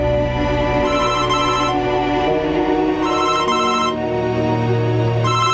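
A telephone rings with a loud, continuous melodic ringtone, a repeating tonal pattern that plays steadily for several seconds with no talking over it.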